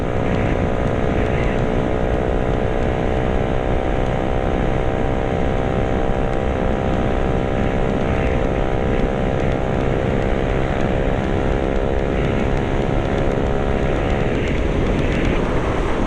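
A loud motorcycle engine roars continuously at speed, a steady close drone with a slowly shifting pitch and no pauses.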